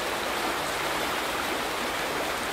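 Flowing water in the video game The Vanishing of Ethan Carter: a steady, loud, broadband rush like a stream or small waterfall, constant throughout with no voices.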